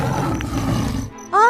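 A tiger roars loudly in an animated story, a broad growling rumble sustained for about a second before it cuts off, followed by a brief rising tonal cry.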